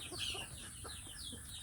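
Free-range village hens in a laying area, soft low clucking and faint fowl calls close by against a quiet background.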